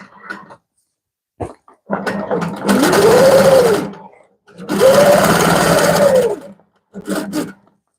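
A sewing machine stitches a quilt panel in repeated bursts, a whirring mechanical hum that starts and stops several times with short pauses between runs, close and loud.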